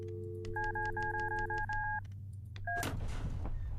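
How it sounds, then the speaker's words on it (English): Telephone keypad tones from the video game Luto, a rapid run of paired dual-tone beeps in steady rhythm over a low hum, then a brief final tone followed by a burst of noisy static. "I think I'm gonna try and call up our friend"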